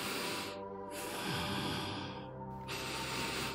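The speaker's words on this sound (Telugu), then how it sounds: "గట్టిగా ఊపిరి తీసుకోండి" A patient takes deep breaths during a doctor's checkup, with long, airy inhales and exhales close to the ear and a brief pause between them.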